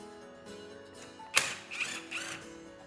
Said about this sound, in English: Remove the four screws that secure the mechanism to the base.